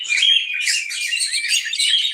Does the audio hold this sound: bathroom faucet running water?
no